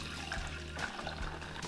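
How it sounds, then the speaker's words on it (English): Homemade oat milk is poured through a nut milk bag, making a soft, steady liquid trickle and splash, faint and close, with no talking. "I'm just gonna pour it through this nut milk bag"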